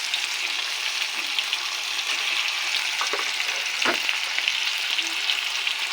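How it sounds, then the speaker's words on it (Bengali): A broken fish head fries in oil in a pan with potato, ginger paste, green chilli and tomato, giving a steady close sizzle with a few soft stirring knocks. "মাথা দিয়ে একটু ভেজে নেব।"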